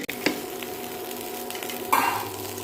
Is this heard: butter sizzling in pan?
yes